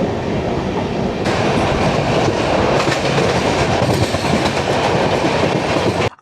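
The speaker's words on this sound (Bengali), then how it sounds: "খড়গপুর থেকে ট্রেন ছাড়লো" The Santragachi–Ajmer Express, leaving Kharagpur, runs on the rails with a loud, continuous rumble and rhythmic clickety-clack of wheels from inside a carriage, steady throughout before cutting off abruptly at the end.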